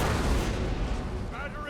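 Cannon fire in the Napoleon Total War strategy game during a British campaign battle: a dense, rumbling barrage of booms and crackling gunfire, loud at first and easing off slightly, with distant battle noise continuing throughout.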